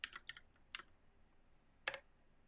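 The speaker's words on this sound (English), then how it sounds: "it helps if I can type" Quick bursts of keystrokes on a new computer keyboard, a few clustered clicks at the start, then a pause and a final single tap, close and crisp in a quiet room.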